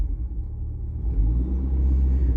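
A 1989 Chrysler LeBaron GTC turbo engine idles with a steady low rumble, close and alone with no talk, its pitch shifting slightly partway through as it runs with a slight stumble.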